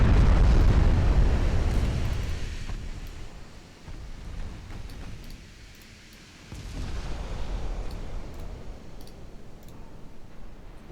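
Torpedo hits explode against warships in a naval strategy game, the Württemberg among the targets: a loud rumbling blast opens, fades into a low roar, and a second, weaker detonation swells around the middle before trailing off.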